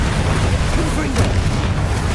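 A Confringo explosive spell goes off in Hogwarts Legacy as a loud, close, rumbling blast that fills the whole moment.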